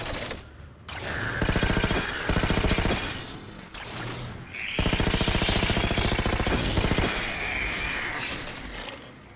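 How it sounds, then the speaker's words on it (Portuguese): Rapid automatic gunfire in Halo 4 from The Master Chief Collection on Xbox Series X rattles in long, loud sustained bursts with brief gaps, harsh and continuous, with no talking. "Nossa, que tiro foi esse, cara?"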